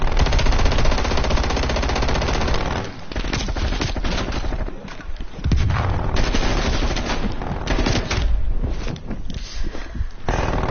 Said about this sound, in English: Multiple enemy sentry turrets active.